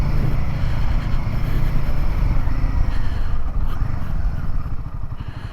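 A 2024 Royal Enfield Himalayan 450 motorcycle with a new engine, ridden and recorded from the rider's point of view. Its engine drones loud and steady, mixed with rushing wind and road rumble throughout.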